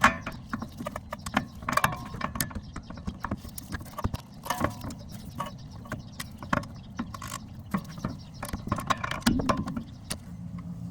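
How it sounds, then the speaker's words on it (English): A half-inch breaker bar works tight bolts loose on the rear brakes of a 2010-or-later Mazda 3, producing a run of sharp metallic clicks, knocks and clunks at close range with brief pauses between bursts. "these bolts are on pretty tight, so I'm using my 1/2-inch breaker bar to remove them"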